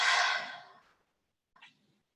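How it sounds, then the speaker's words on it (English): One long, forceful breath exhaled through the mouth, close and clear, trailing off into silence before a brief soft breath follows. "exhale everything out through the mouth"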